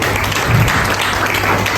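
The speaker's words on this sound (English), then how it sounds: "request all graduates to give big round of applause also" An audience at a graduation ceremony applauds the graduates, a dense and loud burst of clapping that fills the room evenly throughout.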